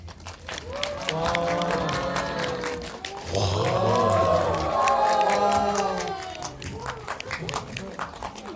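A cinema audience applauds and cheers to welcome the director and actors of the film Exhuma (파묘) at a stage greeting, a sustained crowd swell in the middle with a voice speaking over it.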